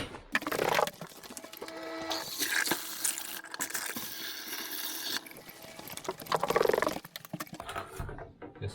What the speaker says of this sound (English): go turn the water back on.